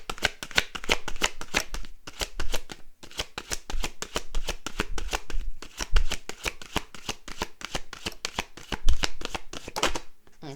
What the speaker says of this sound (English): We're going to take 3 cards from the deck to answer the question.